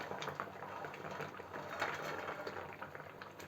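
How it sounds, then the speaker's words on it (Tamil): Curd kurma with fried mini vadai simmering in a pot, a steady, close bubbling and hissing that carries on without pause and with no talk over it. "வடைகள் எல்லாத்தையும் சேர்த்துட்டு ரொம்ப நேரம் கொதிக்க விட வேணாம்"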